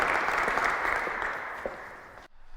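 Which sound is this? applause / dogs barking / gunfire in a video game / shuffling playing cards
applause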